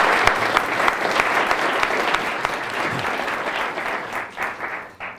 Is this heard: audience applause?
yes